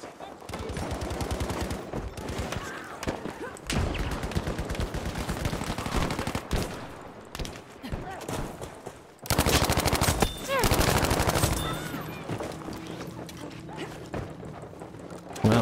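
Battlefield 5 gameplay fills with dense gunfire, rapid machine-gun bursts and scattered shots in close, loud volleys that stop and resume across the stretch, with a player talking at moments.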